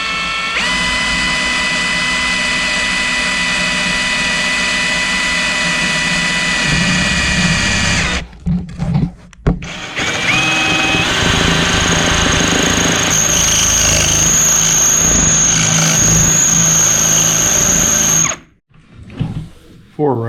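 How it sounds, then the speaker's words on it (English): A power drill bores into a wooden table, a loud, steady high whine that cuts out briefly near the middle, starts again, then stops near the end. "I'll drill into my table."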